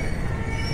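A local train pulling into a station platform in the early morning, its wheels giving a brief, continuous metallic squeal over a low rumble of rolling stock.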